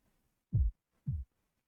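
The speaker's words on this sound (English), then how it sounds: "My heartbeat gets weaker." A slow heartbeat in the Fate/Stay Night visual novel, growing weaker: two soft, deep thumps about half a second apart, isolated against silence.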